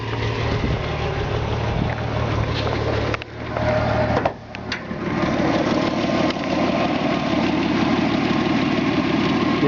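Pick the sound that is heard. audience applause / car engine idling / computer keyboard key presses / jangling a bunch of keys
car engine idling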